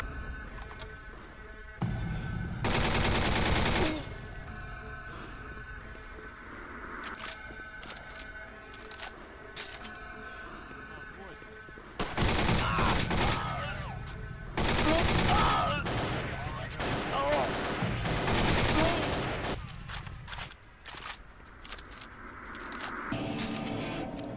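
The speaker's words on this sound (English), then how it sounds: "Oh, it's a grenade launcher" Gunfire and explosive bursts from a grenade launcher in a Half-Life mod video game, with loud sustained bursts and scattered sharp shots, while a voice talks faintly at times.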